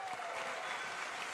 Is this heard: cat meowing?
no